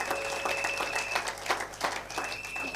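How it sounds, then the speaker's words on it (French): A church congregation applauds in a scattered, fairly quiet burst of clapping that rises and falls for a few seconds, with a faint sustained tone in the background. "Acclamez pour la gloire de notre Dieu, de notre Seigneur."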